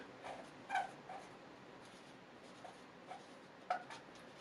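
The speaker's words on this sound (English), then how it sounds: "I'm writing it down with a charcoal pencil so it's loud." A charcoal pencil writes on paper, making faint, scratchy strokes in short bursts with pauses between them in a quiet room.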